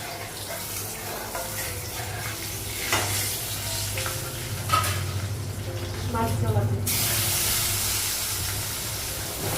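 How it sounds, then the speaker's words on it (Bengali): Fish fries in a hot wok, sizzling under scattered clatter and running tap water before a sudden loud hiss of oil takes over and holds steady, with a voice speaking partway through. "মাছটা ভাজবো"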